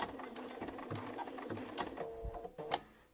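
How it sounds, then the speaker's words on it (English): Sewing machine stitching fabric petals for a Dresden Plate quilt block, a close mechanical whirr in short runs with pauses and small clicks as the presser foot is lifted and the fabric pivoted. "I can use my knee to lift up that presser foot, pivot my fabric just a hair, and keep on sewing."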